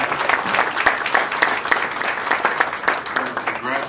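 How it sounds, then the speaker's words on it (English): Audience applause at the grand reopening of the Carlyle Room restaurant downtown, a steady wash of clapping hands lasting several seconds with a few louder individual claps and faint voices mixed in. "Congratulate and applaud the team here"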